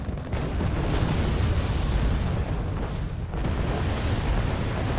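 Heavy rumbling roar of Buratino rocket launchers firing in the Wargame Red Dragon video game, a dense continuous barrage of blasts that stays loud throughout.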